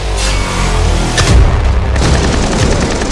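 A cooked grenade in a video game goes off as a loud, close boom about a second in. Its heavy low rumble carries on under continuing gunfire-like noise.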